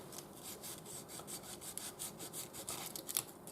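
Hand sanding a wooden spoon with coarse 80 grit sandpaper, a quiet, close rasping rub repeated in quick, even back-and-forth strokes with no voices.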